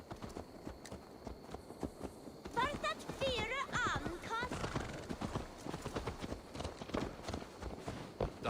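Horse hooves clip-clop steadily in Assassin's Creed Valhalla, a close, continuous walking rhythm with a brief whinny partway through, while a voice talks over it.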